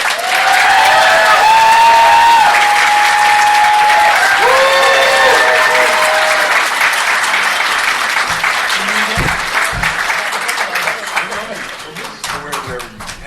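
Convention crowd at a horror fan panel applauding and cheering as actor Denis O'Hare is welcomed, loud sustained clapping with whoops and shouted voices, fading to scattered claps and people talking near the mic.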